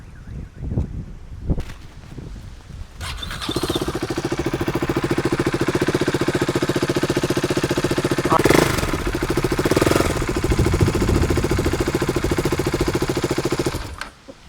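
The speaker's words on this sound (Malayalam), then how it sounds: "ഇനിയിപ്പോൾ സൗണ്ട് എൻജിൻ സൗണ്ട് കൂടെ ഞാൻ ജസ്റ്റ് ഒന്ന് കേൾപ്പിച്ചു തരാം ന്യൂട്രലൊന്നും ആയിക്കോട്ടെ" A motorcycle, idling in neutral, fires up after a few seconds of light handling noise, then settles into a steady, loud, close idle with two brief rises in revs before cutting off at the end.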